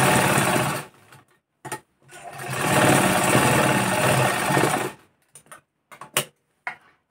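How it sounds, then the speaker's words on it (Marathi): A sewing machine runs in two stitching bursts while joining a blouse sleeve seam, a steady loud mechanical whir of about a second and then three seconds, followed by scattered clicks and ticks of the machine stopping and handling. "इथून आपल्याला ही अशी जॉईंट करून घ्यायची आहे शिलाई"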